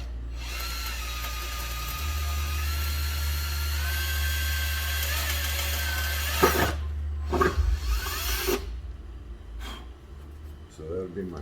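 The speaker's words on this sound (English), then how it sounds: "I'm going to drill my first one" A power drill whines steadily for several seconds while drilling a hole, then stops, followed by brief clatter and handling noises nearby.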